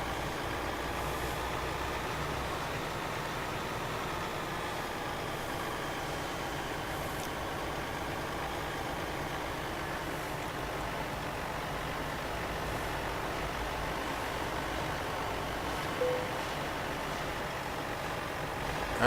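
Steady, continuous truck engine drone from Euro Truck Simulator 2, a low rumbling hum that stays even throughout with no talk over it.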